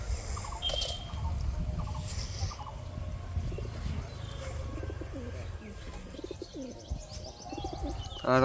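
Pigeons coo repeatedly outdoors while feeding, mixed with light chirps and soft background bustle, fairly close but moderate in level.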